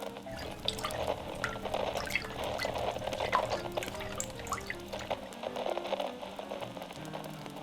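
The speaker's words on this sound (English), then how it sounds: "You want me to place my hooves in that bowl of water at my feet?" Hooves placed into a bowl of water during an ASMR makeover roleplay produce close, gentle sloshing and soft drips that continue quietly and steadily throughout, with no speech.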